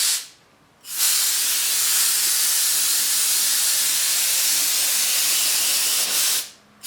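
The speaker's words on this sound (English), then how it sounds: "holding it in a vertical position and just giving it an overall spray" Aerosol spray blasting over a Canon camera body held upright for cleaning: one long, loud, steady hiss lasting about six seconds, starting and stopping abruptly, with nothing else heard.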